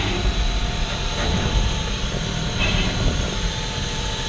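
A steam locomotive coasting to a stop, with a loud, steady rumble and rolling noise that stays close and constant throughout.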